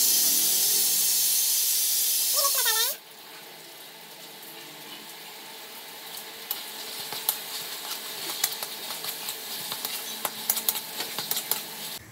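Masala of tomato, turmeric, cumin, coriander and chili powder fries in a pan with a steady hiss and sizzle, after a loud opening of music, while clattering stirs and scrapes grow more frequent toward the end.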